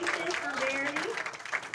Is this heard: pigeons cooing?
no